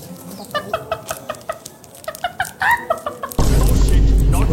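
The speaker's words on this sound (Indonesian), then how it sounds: "keganggu nggak dengan suara ayam pagi-pagi?" Chickens clucking in a quick series of sharp calls in the morning, fairly close and loud, ending in a burst of broad noise.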